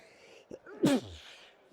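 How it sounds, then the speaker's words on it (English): One close, sharp human sneeze with a quick inhale before it, short and fairly loud against a quiet room. "I got to sneeze again."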